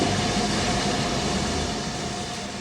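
A Henschel 0-4-0 Mallet tank steam locomotive working on a Portuguese narrow-gauge line, a loud continuous rumbling chug with a steady tonal hum, fading slightly toward the end.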